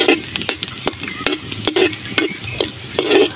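Ginger and garlic sautéing together in a pan, a steady close sizzle broken by repeated sharp stirring scrapes and clacks of a utensil against the pan, with no talking.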